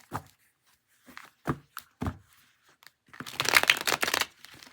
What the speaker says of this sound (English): we'll give these a quick shuffle